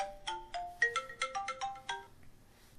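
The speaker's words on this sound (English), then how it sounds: "Oh, sorry about the phone" A phone ringtone plays a melodic sequence of bright electronic tones, about a dozen quick notes in a rising and falling pattern, clear and fairly close, then stops.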